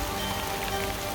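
Rain patters steadily on a nearby surface, a dense, even hiss of drops with no voices.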